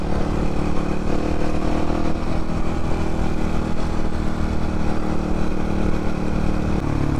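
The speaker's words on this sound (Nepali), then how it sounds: "हाम्रो सोभित जिग्री पनि कम छैन नि फेरि बाइक त चक्कर उडाइदिन्छ नि यार केटाहरूले" A Crossfire motorcycle engine drones loudly and close during a ride, holding a steady, throbbing pitch with slight fluctuations in throttle for the full stretch.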